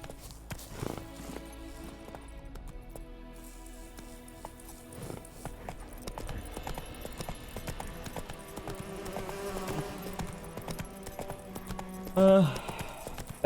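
Roach the horse from The Witcher 3 trots along with steady, rhythmic clip-clop hoofbeats over a game music bed, continuing for the whole stretch with a brief louder accent near the end.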